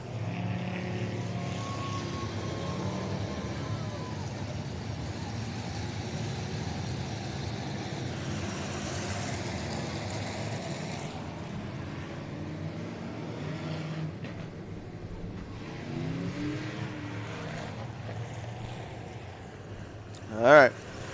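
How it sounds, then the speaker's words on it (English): Sprint car engines roar through a hot lap session at Heart O' Texas Speedway during a Texas Sprint Series race. A distant droning howl rises and fades as cars pass, with background chatter and a sharp thump near the end. "Hot lap session for Caden Petty"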